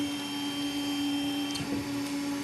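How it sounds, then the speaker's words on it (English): A Wanhao Duplicator 5S 3D printer runs a print with a steady motor hum and faint stepper whine, joined by a few soft mechanical clicks midway through, with no one talking. "okay, let's start the print."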